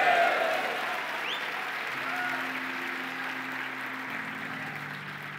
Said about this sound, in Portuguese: Dê um glória a Deus e uma salva de palmas